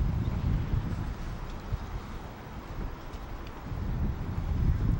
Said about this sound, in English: Wind gusting again